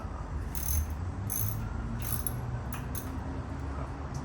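A ratchet loosening the valve cover bolts on a Predator 420 small engine, quiet, quick clicking bursts repeating in short runs over a low background hum, with no voices.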